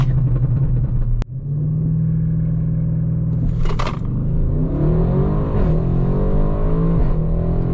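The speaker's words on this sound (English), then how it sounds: "The backfires are so awesome." A 750 hp Audi RS6 engine rumbles loudly and rises in pitch as it accelerates, with a sharp exhaust backfire pop early on and a few crackling backfire bursts later.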